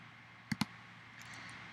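Two quick computer mouse clicks, close together and sharp, sound in a quiet room while a website editor is in use, with faint small taps following.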